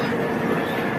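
The Darjeeling Mail train rumbles at Kishanganj railway station in India, a close, continuous low mechanical drone of rolling rail cars that runs evenly through the moment.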